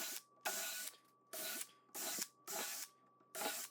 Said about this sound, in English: drill 6 pilot holes.